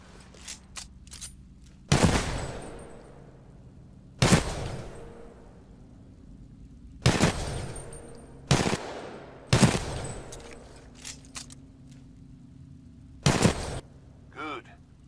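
Separate loud gunshot bursts from a weapon on a Titanfall 2 firing range, about six sharp cracks spaced a couple of seconds apart over a low hum, with some short clicks in between.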